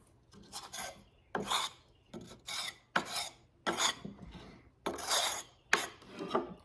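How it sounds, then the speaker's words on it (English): Flake pipe tobacco rubbed out finely between the hands, rhythmic dry rasping bursts about once a second, close and clear with no speech. "I'm going to rub it out even finer."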